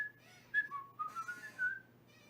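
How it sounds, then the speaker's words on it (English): Someone whistling a tune with pursed lips: a short run of clear, sliding melodic notes, fairly quiet and close, with brief breathy gaps between phrases and no talking. "Just purse your lips and whistle."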